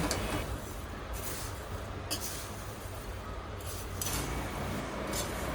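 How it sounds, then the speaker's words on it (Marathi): Poha chivda mixture being stirred in a pan, a steady dry scraping and rustling with light metallic clinks that rise now and then, close and continuous throughout. "आता हे जे उरलेले पोहे आहेत ते पण या मिश्रणात टाकते आणि परत एकदा ढवळून घेते"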